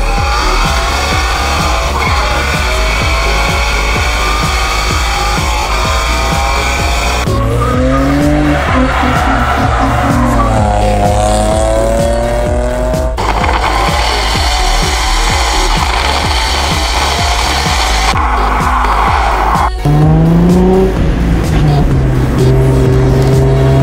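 An Infiniti G35 drives hard with a loud, continuous exhaust note that rises and falls through gear changes, sustained and close throughout, with no voices over it.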